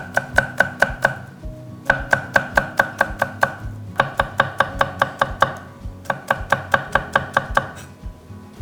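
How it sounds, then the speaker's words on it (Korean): A knife finely slicing onion into thin strips on a cutting board: quick bursts of rapid, crisp taps, about eight strokes per burst with brief pauses between, close and clear with no talking. "이렇게 이제 양파 채 썰었어요"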